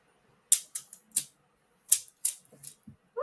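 Keys on a keyboard struck in a few short clusters of sharp, crisp clicks separated by pauses, heard close in an otherwise quiet room with no voice.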